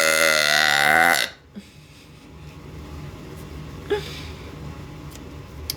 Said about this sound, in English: 10 burps in a row.